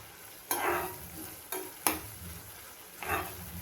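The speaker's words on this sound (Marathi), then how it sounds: "आता याला चांगलं असं मिक्स करून घ्यायचं" Curry leaves, fenugreek seeds and onion are stirred in boiling oil for a homemade hair oil. A quiet, low bubbling hiss runs throughout, with four soft scraping stirs at irregular intervals, and no voices.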